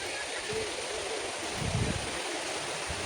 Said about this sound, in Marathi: बघू शकता कशा प्रकारे पाणी वाहताना